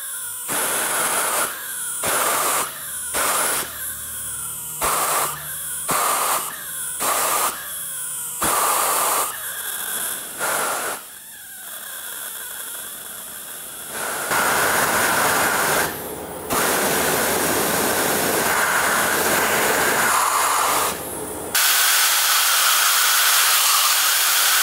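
A small ramjet run on compressed air gives loud rushing hisses, first in a run of short bursts, then in longer sustained blasts that stop abruptly.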